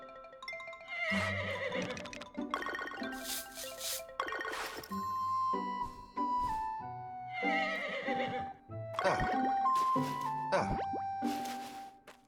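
A horse in a Story of Seasons farming game neighs and whinnies several times in clear, close bursts, with hoof clip-clops between the calls and no talking.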